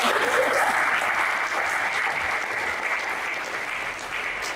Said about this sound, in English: I won't mind you if we clap.